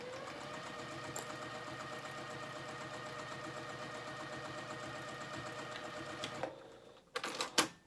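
A sewing machine stitches a seam on a Jasmine dress, a steady close whirring drone that runs unbroken for several seconds before stopping, followed by a few sharp clicks and handling knocks.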